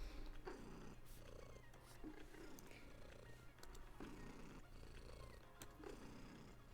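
A pet cat named Yumiko purrs close by, a steady low rumbling drone that continues unbroken throughout, with a few small household rustles on top.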